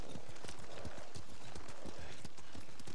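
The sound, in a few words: horse hooves clip-clopping in the video game Ghost of Tsushima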